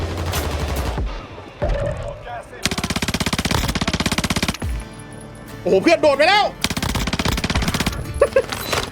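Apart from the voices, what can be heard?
gunfire in a video game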